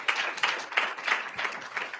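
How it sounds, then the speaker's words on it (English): A round of applause at a student government senate meeting: a small group clapping in a quick, fairly quiet rhythm, with distinct hand claps audible for the whole stretch. "Can we give a round of applause to Take One?"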